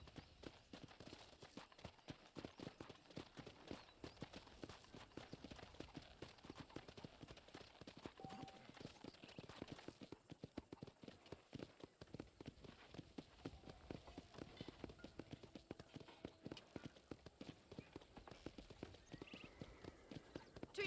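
Horse hooves gallop in the Red Dead Redemption video game with a steady, rapid clip-clop that runs throughout at close range, with an occasional whinny and faint game ambience underneath.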